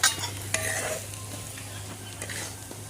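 Spices, coriander powder, turmeric and roasted gram flour are stirred in a frying pan, with a spoon scraping close by over a soft, steady sizzle.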